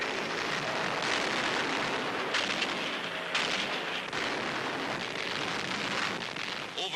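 Bombers dropping 1,000-pound bombs on docks, installations and a munitions chemical plant in World War II, heard as a continuous dense roar of blasts and rumbling detonations with louder bursts throughout, no talking.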